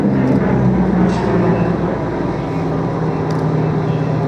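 A Lockheed fighter's engine rumbles as a steady, muffled low drone at an air show, loud and continuous throughout.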